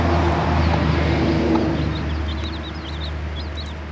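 A mother hen and nine young chicks outdoors around a dust bath, giving soft high cheeps and peeps that repeat through the second half over a steady low background hum.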